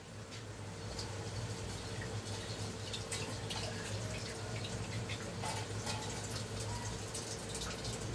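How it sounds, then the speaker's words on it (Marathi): Water from a rinsed cooking pot is poured back into the pot for steaming in a home kitchen, a soft, steady splashing and trickling that runs evenly for several seconds at low volume. "हेच मी टोप धुवून तेच पाणी ह्याच्यात ठेवणार आहे"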